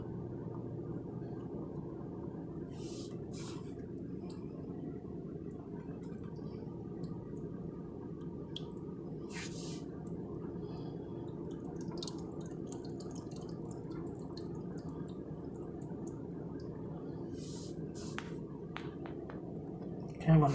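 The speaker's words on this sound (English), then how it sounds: "So what I'm going to do now is I'm going to speed up the drip." Slow water drips from an acclimation line falling into a container while saltwater mollies adjust, faint sparse ticks over a low steady hum with a small splash at the end.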